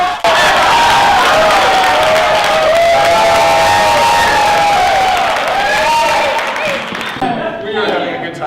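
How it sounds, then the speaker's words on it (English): An improv workshop audience breaks into applause with cheers and whoops, loud and dense at first and thinning out toward the end, with voices mixed into the crowd noise. "Big round of applause."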